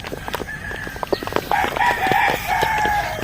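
A rooster crows loudly nearby, its drawn-out call rising over scattered clucks and chatter from other chickens.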